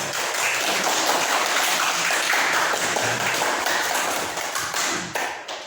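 An audience at a teachers' academic supervision session claps in a dense, continuous patter of many hands, loud and steady before thinning out at the end.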